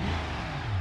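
A crate motor with a 4-barrel carburetor in a Moonhawk speedway car in BeamNG Drive revs with a deep, rumbling exhaust note, loud and close, pitch climbing slightly toward the end of a brief burst.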